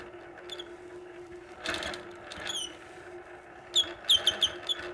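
A longarm quilting machine stitches crescent arcs along templates, a steady low mechanical hum broken by quick, bright ticking bursts of the needle, close and moderately quiet.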